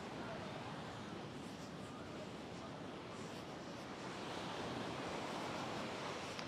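Steady broadband wash of surf, constant and fairly loud throughout, with no distinct individual wave breaks standing out.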